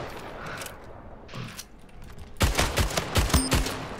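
Gunfire in the Splitgate video game, starting faintly and then turning into a loud rapid burst of shots with mechanical clicks in the second half, close and dry.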